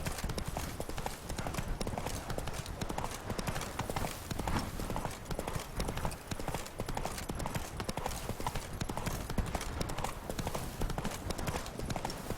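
Hooves of Roach, a horse in The Witcher 3: Blood and Wine, clip-clop at a steady gallop, close and continuous throughout, with a busy game soundscape underneath and no talk.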